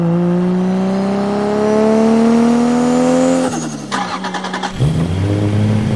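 A new Dodge Charger's engine revs up in a rising, climbing pitch, then drops and revs again with chattering shifts, loud and close, played back with no talking over it.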